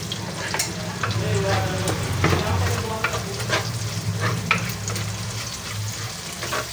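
Onion sautés with garlic in a pan holding leftover ground-meat drippings, a steady close sizzle broken by repeated scraping and stirring strokes of a utensil.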